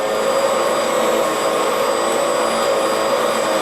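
A Bissell Powerglide Pet vacuum cleaner runs loud and steady, with a high whine and a roaring rush of airflow as it sucks up debris from a floor groove, alone and unbroken.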